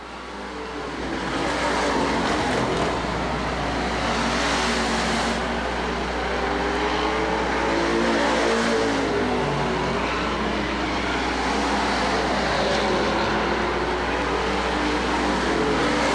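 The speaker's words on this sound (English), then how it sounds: "Gary Collins, using the inside groove, is able to get underneath the 59 car, taking that third spot away." Street stock race cars lap a short oval at Lakeport Speedway during a main event, a steady wash of engine roar holding for the whole stretch with no talk over it.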